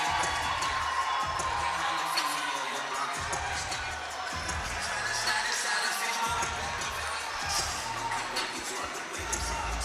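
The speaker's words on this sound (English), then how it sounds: "You hear the crowd get loud." Crowd at a boxing event in Greensboro cheering for a fighter's ring entrance before his pro debut, a loud continuous roar with whoops and shouts over thumping arena music, a commentator speaking over it.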